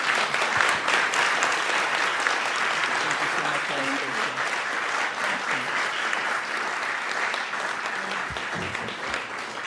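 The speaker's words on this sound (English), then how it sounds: "how about a round of applause for our speaker?" Strong, sustained applause fills the hall for a speaker at the National Press Club. A dense crowd claps loudly and steadily, with faint voices mixed underneath.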